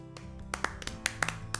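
Children clap their hands a few separate times, each clap a sharp close tap over a low steady hum of background music.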